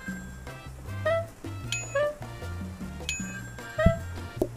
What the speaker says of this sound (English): We're still ringing this bell.